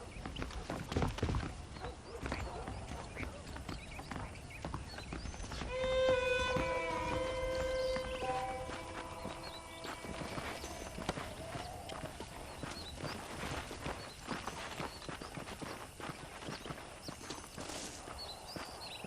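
Horses' hooves clip-clop steadily on a dirt path in the Red Dead Redemption western game, a walking rhythm running the whole way with a brief whinny-like tonal call early on and game ambience in the background.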